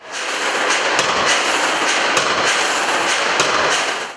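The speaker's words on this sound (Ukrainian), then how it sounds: "за допомогою спеціального приладу молоту працівники ущільнюють структуру металу" Power forging hammer in a forge shop compacting metal with about three-ton blows, a dense, loud clattering industrial din with sharp impacts repeating roughly every second over continuous machinery roar.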